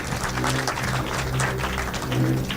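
An audience applauds at the graduation ceremony of a business accelerator and incubator program, producing a steady, moderately loud wash of clapping with faint voices underneath.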